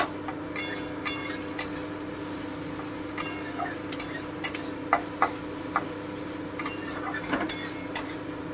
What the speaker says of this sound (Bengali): আমি এটা পেঁয়াজটা হালকা ব্রাউন করে ভেজে নিচ্ছি